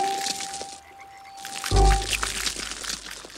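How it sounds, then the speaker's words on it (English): Cartoon eggs cracking open, a sudden loud crunchy break with a low thump, preceded by quieter ambient sounds and a brief lull, then fading into a ringing tail. "The eggs are cracking!"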